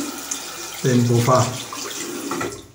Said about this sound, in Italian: Metto un po' d'acqua così l'acqua ammorbidisce un poco.